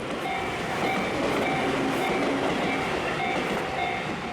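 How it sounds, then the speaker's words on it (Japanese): A Tobu Urban Park Line commuter train rumbles steadily past a level crossing at Kasukabe Station, with a continuous roar of wheels on rails and the crossing bell dinging repeatedly in the background. "アーバンパークラインの上り列車が通過です。"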